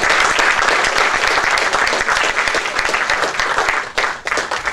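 A crowd at a meeting on a proposed decongestion plan for Panjim city gives the mayor a sustained round of applause, dense and loud throughout, thinning slightly toward the end.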